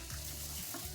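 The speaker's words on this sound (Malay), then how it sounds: "kita bakarlah dalam kuali yang kuali ataupun pan ya" A fish parcel (pepes ikan) sizzles in a heated wok or pan, a quiet, steady crackle of frying for about a second, with no voices.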